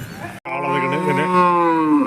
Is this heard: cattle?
yes